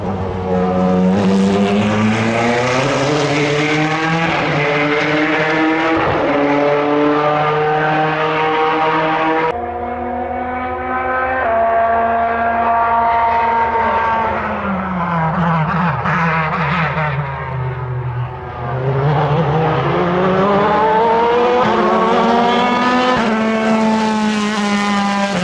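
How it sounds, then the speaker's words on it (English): Mid-engine Corvette C8.R V8 race car at a racetrack, a loud sustained engine note rising and falling in pitch as it passes, with a brief dip mid-way before climbing again, no voices over it. "Man, that car just sounds so awesome."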